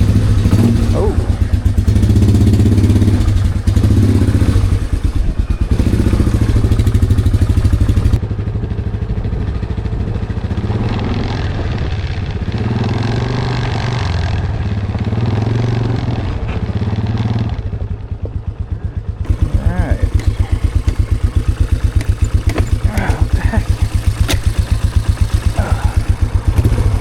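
Engine of a cheap used 4x4 ATV runs loud and steady while being driven, a continuous rough motorcycle-like drone that drops briefly and then returns.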